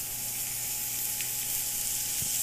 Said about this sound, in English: got my steak, it's going in the pan,